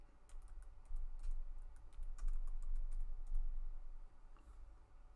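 Keyboard keys clatter in quick, uneven bursts while text is typed on a computer, close and moderately loud over a low steady hum, with short pauses between runs of clicks.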